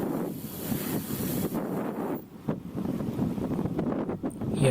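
Strong wind buffets loudly against the microphone while riding the Delihea REST on a flat, straight road near Halim Airport in East Jakarta, gusting unevenly throughout with no talk.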